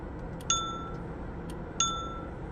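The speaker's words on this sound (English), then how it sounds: "Gives us a bell." A bell rings twice in the puzzle adventure game Myst, each a clear, bright ding with a short ringing tail, spaced about a second apart over a quiet background.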